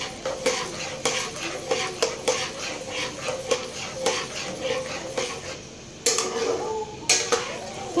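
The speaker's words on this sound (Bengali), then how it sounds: "অ্যাড করে এটাকে ভালো করে আমি নাড়বো।" A utensil stirs curry with added coconut milk in a pan. Repeated scraping and clinking strokes sound against the pan over a soft simmering sizzle, close up and without speech.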